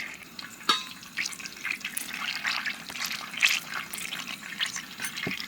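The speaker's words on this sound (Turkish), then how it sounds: "2 yemek kaşığı suyumuzu ekleyelim." Two spoonfuls of water poured into flour in a mixing bowl for a white-flour muhlama, heard as soft, irregular trickling and splashy dribbles with a few light taps, fairly close and without talk.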